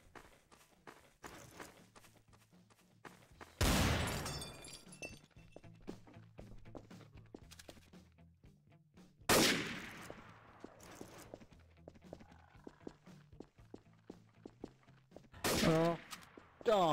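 Gunshots in the video game Trouble in Terrorist Town: three loud, sharp blasts spread several seconds apart over a steady patter of quick footsteps and small thuds, with the last shots arriving as a short double burst.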